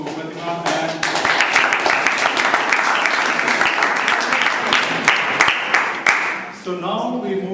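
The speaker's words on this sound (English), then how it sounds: "Let us just give one more round of applause to Pratima" An audience claps for a presenter named Pratima at the close of a session, a dense, steady round of applause lasting several seconds with a voice speaking over the end.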